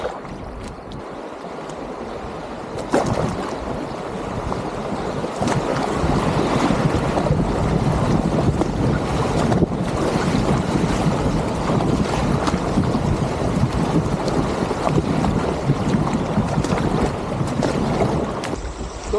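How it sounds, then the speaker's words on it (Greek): Rushing river water churns steadily beneath a kayak on the second half of a river in Argentina, a loud, continuous broadband roar with wind buffeting the microphone throughout and no voices. "Τώρα εδώ στο δεύτερο μισό του ποταμού"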